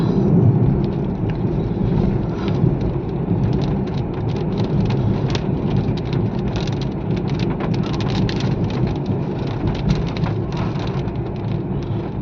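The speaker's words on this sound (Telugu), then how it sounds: "వర్షం పడుతుంది" Steady heavy rain pours down continuously, a dense hiss of drops drumming on a surface, loud and close, with no voices.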